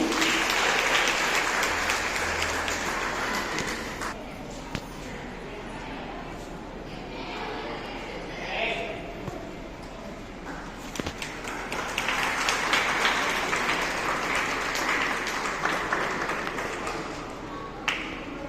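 Audience applause at a school Mother's Day event in Mirzapur, a long spell of broad clapping that swells and fades, with voices and hall noise mixed in beneath it.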